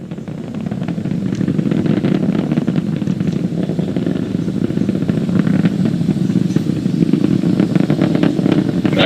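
Falcon 9 rocket engines roar during launch ascent near maximum dynamic pressure, a loud, steady, broadband rumble with crackling texture that continues unbroken throughout.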